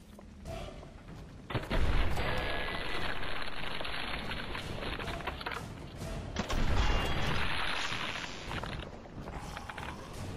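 Legendary Railway Rifle from Fallout 4 firing in gameplay, two loud booming shots with metallic mechanical clanks around them, each leaving a sustained rumbling tail over a steady game-noise bed.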